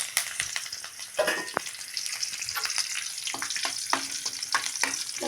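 Curry leaves, garlic, dried red chilies, cumin and mustard seeds crackle and sizzle in hot oil as a tempering for gongura chutney, with close stirring scrapes and sharp pops throughout.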